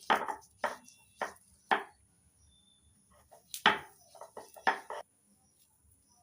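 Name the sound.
grinding jackfruit seeds on a stone grinding slab (shil-nora)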